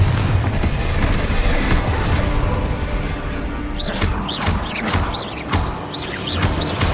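Bombarda and Confringo spell explosions in the Hogwarts Legacy video game boom and crackle in a dense, continuous barrage, with bright whooshing spell-cast chirps repeating rhythmically through the second half.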